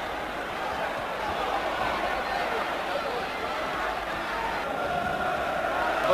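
Steady roar of a Belfast boxing crowd during a Bassa vs McAuley fight, a dense continuous murmur and cheer held at an even level throughout with no distinct voices standing out.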